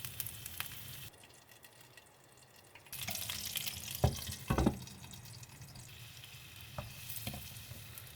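Sausages fry in a pan on low heat, a quiet crackling sizzle that swells after a few seconds, with a couple of brief knocks from turning or stirring, no voices.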